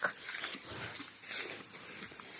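A dog near a rural farmhouse with a pig pen, giving short whimpering barks and yips at close to mid distance over a faint outdoor background, with no one talking.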